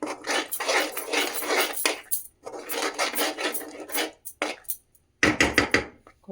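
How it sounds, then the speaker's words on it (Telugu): A spoon scrapes and clatters against a pan while red chili and tomato chutney is stirred, with steady rapid scraping in three bursts separated by short pauses, close and fairly loud, with no talking. "బాగా కొంచెం కలుపుతూ ఉండాలి ఒక 2 minutes."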